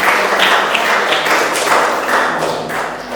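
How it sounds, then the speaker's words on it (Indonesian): A classroom of students applauds a classmate, a dense steady patter of many hands clapping close by for a few seconds with no talk over it. "Tepuk tangan ya untuk Hana"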